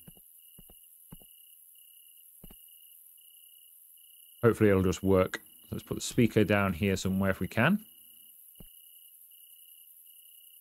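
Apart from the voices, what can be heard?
crickets chirping loudly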